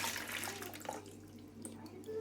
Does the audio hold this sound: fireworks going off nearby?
no